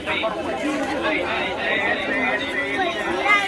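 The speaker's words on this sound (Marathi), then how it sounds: "आज वर्षाचा पहिला दिवस म्हणून भरपूर गर्दी" A large crowd at Siddhivinayak temple on New Year's Day fills the air with dense, continuous chatter of many overlapping voices close by, steady throughout.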